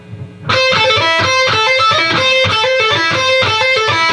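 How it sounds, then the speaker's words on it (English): Loud electric guitar with heavy distortion strums sustained chords and riffs in a steady rhythm during a guitar lesson, opening after a brief quiet lead-in and ringing on without talk. "Throw some distortion on it."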